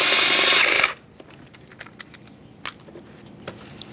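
A power tool runs hard for under a second, snugging 10mm mounting bolts on the intake of a 1998-2011 Ford Ranger 2.3L four-cylinder, then gives way to quiet, scattered clicks and taps of metal parts.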